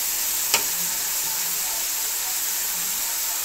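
Onions frying in oil in a pan for dhaba-style daal mash, a steady bright sizzle with one sharp click near the start and no talking.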